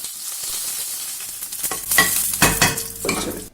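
Hot oil with popped mustard seeds sizzles and crackles sharply as curry leaves drop in, bursting into loud spattering that rises and fades in waves, with some stirring.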